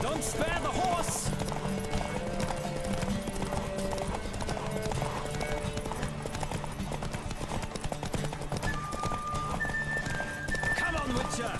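In a horse race from The Witcher, rapid galloping hooves beat continuously and close, layered with game music and bursts of talking from riders.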